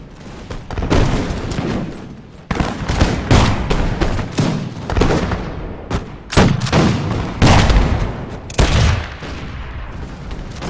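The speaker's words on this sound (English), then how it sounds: "let's get a nice volley in here" Massed musket volleys from line infantry in the strategy game Imperial Splendour, crackling in repeated loud bursts of overlapping shots with deep booming rumbles between them, continuous across the whole stretch.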